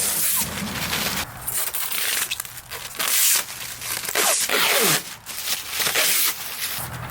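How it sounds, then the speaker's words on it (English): Blue protective plastic film being ripped and peeled off the three panels of a Can-Am Maverick X3 Max upper door and windshield kit, loud tearing and crinkling bursts repeating in irregular pulls, close and without speech. "All the 3 pieces of paneling come with blue protective plastic. So we're just going to go through and rip them off."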